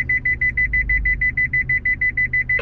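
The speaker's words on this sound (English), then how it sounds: "I can hear the beep sound through the walkie also." The reverse-gear warning on a new Isuzu D-Max beeps rapidly and evenly in a steady high-pitched pulse, loud and close over a low engine hum.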